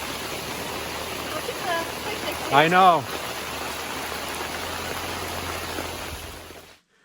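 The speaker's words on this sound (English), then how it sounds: "Hail." Heavy rain mixed with hail pours steadily onto a raised truck-bed topper during a severe rainstorm, a dense, constant hiss and patter lasting the whole clip, with a person speaking briefly partway through.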